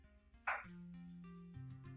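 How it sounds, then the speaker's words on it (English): A dog yelps once and then lets out a drawn-out whimpering whine, faint and somewhat distant in a quiet indoor room. "Kai's barking. I don't know why."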